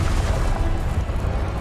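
Depulso force spell cast in Hogwarts Legacy, a dense low booming blast that rumbles steadily and loudly through the whole short moment with no voices.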